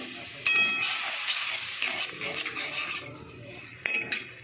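Water poured into a hot frying pan in a home kitchen, setting off a loud hissing sizzle that gradually settles into steady frying, with a couple of sharp clatters of utensil against pan.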